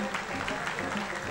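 Brief, fairly quiet burst of studio audience applause on a Romanian game show, a dense clapping texture with voices mixed in.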